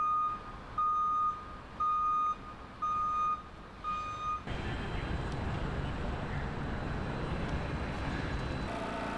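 Busy downtown street where a truck's reversing alarm sounds about five regular, loud beeps, then the beeping stops and broad traffic roar fills the rest.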